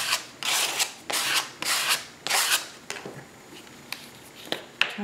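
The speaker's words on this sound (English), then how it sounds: "most of the time I use glue stick to do this sort of thing." A glue stick is rubbed across paper to stick it down for a collage. Several close, papery scrubbing strokes come in bursts and fade into lighter taps and rustles toward the end.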